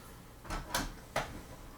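The small plastic top door of a Monster High Skulltimate Secrets Fearidescent toy playset is worked, giving three quick, soft clicks and scrapes close up in a quiet room.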